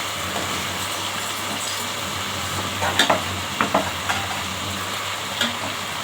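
Pointed gourd and potato fry in a spice paste in a pan, giving a continuous sizzle broken by a few sharp scrapes and clinks from stirring.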